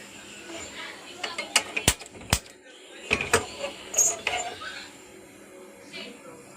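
Sharp clicking and ticking from lighting a stove fire to cook arakka fish curry, a few crisp snaps clustered in the middle over low kitchen background noise.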